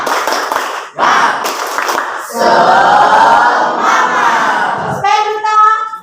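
Students perform the rhythmic 'tepuk semangat' clapping chant in a classroom, with loud bursts of claps and shouted chanting voices in unison, close and energetic.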